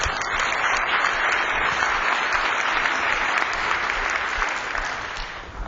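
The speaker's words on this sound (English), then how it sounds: "Another round of applause, please" An audience at a mindfulness and wellness conference gives a speaker a full round of applause, a thick continuous wash of clapping that holds steady and tapers slightly at the end.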